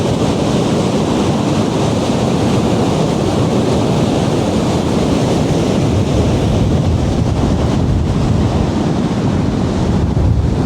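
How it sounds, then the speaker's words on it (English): Ocean surf rolling onto a beach where people are surfing, a steady loud wash of breaking waves mixed with wind buffeting the microphone, continuous throughout with no voices. "And just listen to the sound of those waves."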